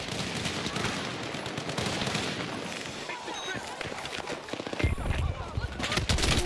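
Sniper fire in a video game sounds within dense, loud combat noise of overlapping shots and blasts, with a heavy boom near the end.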